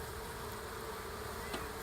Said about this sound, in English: They're making noises like they are queenless. There's a lot of buzzing going on,